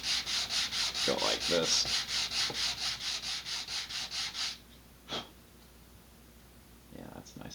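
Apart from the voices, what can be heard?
sanding laser-cut wood model rocket part with sandpaper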